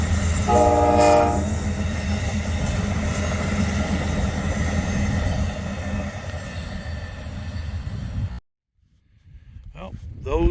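An Amtrak passenger train rushes past with a loud horn blast near the start, wheels and rumble continuing, then sudden quiet before noise returns.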